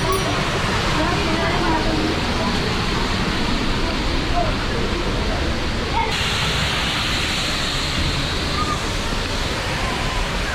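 The Düden waterfall in Antalya roars as a loud, steady broadband rush of falling water heard up close from behind the falls, constant throughout with no breaks.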